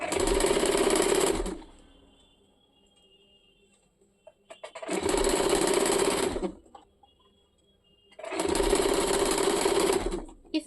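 A sewing machine stitches a salwar waistband in three loud, steady runs of about a second and a half each, separated by short pauses with faint handling clicks.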